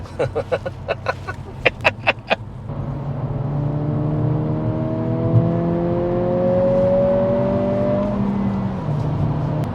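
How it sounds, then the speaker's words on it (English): A 2023 Acura Integra A-Spec cruising on the highway opens with a few sharp clicks, then its engine note climbs steadily for several seconds under a constant road rumble and levels off near the end. "We are driving this brand new Integra."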